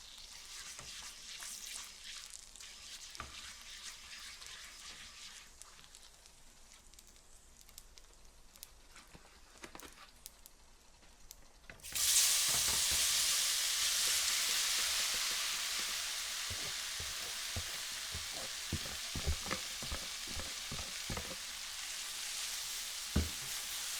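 Floured tofu hits a hot pan with a sudden loud sizzle about halfway through, preceded by quiet scraping and clatter; the frying hiss then continues steadily while a spatula stirs with intermittent taps and scrapes.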